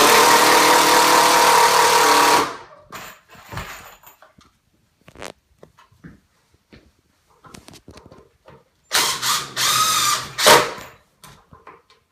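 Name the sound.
drilling holes in bed frame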